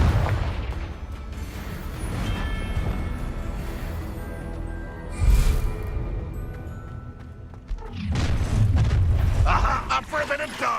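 Confringo spell explosions in Hogwarts Legacy: two heavy booming blasts, one midway and a longer rumbling burst near the end, set amid combat effects and spoken spell incantations.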